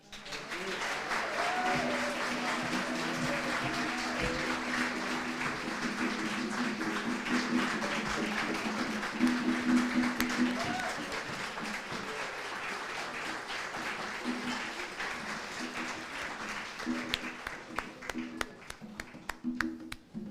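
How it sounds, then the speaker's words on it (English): Sustained audience applause at an environmental pioneer awards ceremony, a dense, steady wash of many hands clapping from a sizable crowd, fading slightly and thinning toward the end with a few voices underneath. "let's give her another round of applause"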